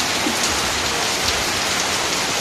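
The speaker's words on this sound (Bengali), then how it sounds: "ওই যে ছাতা নিয়ে বৃষ্টিতে ভিজে যাচ্ছে।" Rain falling outside, a steady dense patter of drops on surfaces with no thunder and no voices, even and moderately loud throughout.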